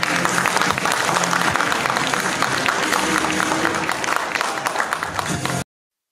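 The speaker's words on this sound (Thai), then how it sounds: "ขอเสียงปรบมือให้น้องๆด้วยครับผม" Dense, steady applause from an audience at a Thai press conference announcing the country as host of a wakeboard and wakeskate world championship, filling about five and a half seconds before cutting off abruptly.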